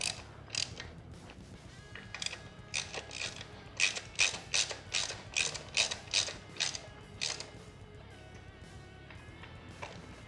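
A ratchet clicks in short bursts while tightening bolts on an aluminum Cobra Powerflo velocity stack on a 2013 Harley-Davidson, close and crisp with brief pauses between strokes.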